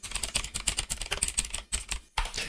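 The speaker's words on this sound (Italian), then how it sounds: "Come sempre digitiamo gentiluomo digitale" Someone types a search into a web browser on a computer keyboard, producing rapid, close, clicking keystrokes in a quick burst with a brief pause near the end.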